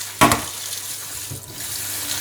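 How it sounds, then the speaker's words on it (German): Cold tap water runs over boiled Brussels sprouts in a sieve to cool them, a steady close splashing hiss that starts with a sharp burst and continues evenly. "Und immer dran denken, mit kaltem Wasser"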